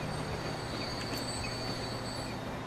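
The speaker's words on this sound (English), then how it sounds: "That's a full-size train." A freight train runs in the Transport Fever video game, giving a steady, low rolling rumble with a thin high squeal riding above it, quiet and continuous with no one talking.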